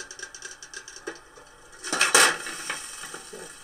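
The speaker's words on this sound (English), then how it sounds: "In just a few moments, that can completely crushed in on itself." An aluminum tea can flipped into cool water crushes in on itself with a sudden loud crackling crunch about halfway through, preceded by faint ticking and clinking, then settling into a lingering hiss.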